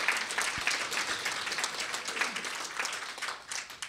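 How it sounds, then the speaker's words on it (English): Sustained audience applause at a local MS evening program for Collier Neurologic, a dense wash of many hands clapping at steady loudness throughout, with no voices over it. "Let's give them a round of applause."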